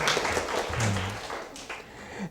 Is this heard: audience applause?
yes